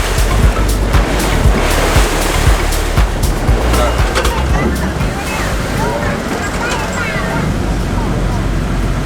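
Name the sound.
boat moving on a river, water sloshing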